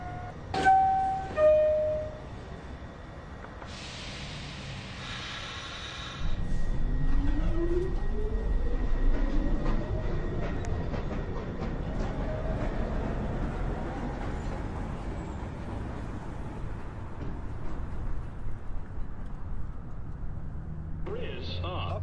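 A 2 train at Beverly Road station on the NYC subway pulls in and starts off with a rising electric motor whine over a low rumble, broken by recorded station announcements and chimes.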